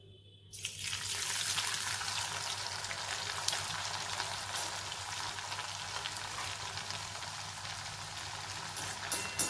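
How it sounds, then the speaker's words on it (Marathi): Coarse-flour vada fritters fry in hot oil over medium heat, a steady, bright sizzle that starts abruptly and carries on evenly and close up, with no voices. "आता हा वडा आपण तेलामध्ये व्यवस्थित छान तळून घेऊया"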